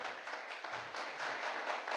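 A church congregation claps steadily for about two seconds at a low level, a soft continuous patter of many hands in a worship service.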